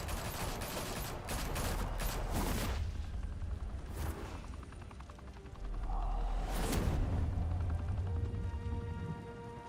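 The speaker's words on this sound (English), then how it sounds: "Open fire!" Gunfire in the Batman: The Telltale Series video game, with dense bursts of shots and whooshes, a heavy low rumble and a couple of sharp cracks standing out amid continuous loud action.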